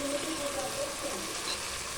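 Chicken masala frying in a pan as coriander leaves are stirred in, giving a soft, steady, close sizzle over a brief moment with no voices.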